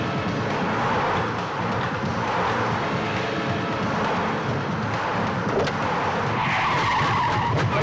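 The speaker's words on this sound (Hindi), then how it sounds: "हाँ भाई, ये नील की गाड़ी आ रही है।" A car in an action film arrives with tires skidding, a loud sustained broadband screech and rumble that fills the whole stretch with no pause.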